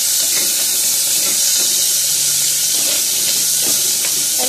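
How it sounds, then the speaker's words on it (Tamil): Onions sautéing in a pot with salt, a steady loud sizzle and frying crackle with occasional stirring scrapes, continuous throughout with no talking. "ஏன்னா வெங்காயம் பொன்னிறமாக ஆகிற வரைக்கும் கொஞ்சம் நேரம் வதக்கலாம்."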